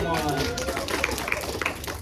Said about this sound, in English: Hey, applause.